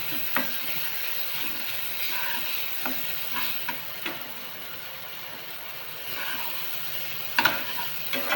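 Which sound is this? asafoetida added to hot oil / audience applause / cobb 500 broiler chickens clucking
asafoetida added to hot oil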